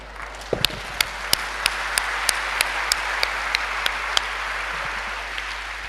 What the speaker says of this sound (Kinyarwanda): mureke kwiha amashyi nyabahe